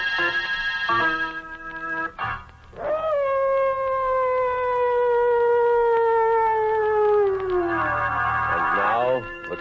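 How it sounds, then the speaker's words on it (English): Mad dogs howling as a sound effect in a radio horror drama set in darkest Africa: long, loud, wavering howls with sliding pitch. Several voices overlap and drift downward together over a low hum. "mad dogs howling in the background"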